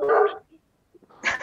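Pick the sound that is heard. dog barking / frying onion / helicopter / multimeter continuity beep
dog barking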